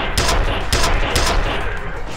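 Sustained gunfire from the first-person shooter F.E.A.R., a dense run of loud rapid shots with a few heavier bursts standing out, steady and close with no voices over it.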